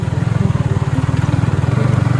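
An engine on a rough mountain road, revved a little to give a throbbing, pulsing mid-pitched drone that holds steady and close throughout.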